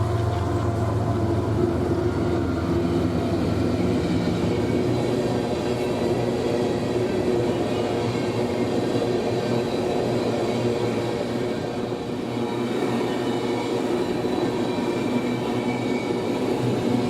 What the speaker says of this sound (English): This empty coal is one of many coal trains that take the Brush Subdivision